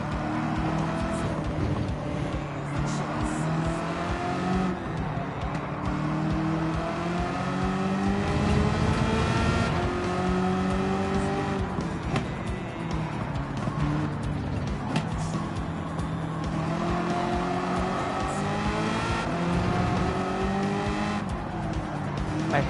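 Race cars roar through an endurance race in the driving game Gran Turismo 7, engines droning and shifting pitch continuously with occasional tire squeal, loud and steady throughout with no talking.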